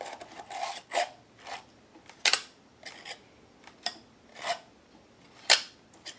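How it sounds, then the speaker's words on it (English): Soft cloth buffing wax over the cover of an altered book, giving repeated short rubbing and rasping strokes, close and fairly quiet, each swipe brief with small pauses between. "I applied the wax with a palette knife, and I'm going in with a soft cloth to buff it"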